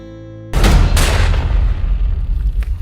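A single loud gunshot rings out during a bear hunt, a sharp blast followed by a second crack and a rolling, fading echo outdoors.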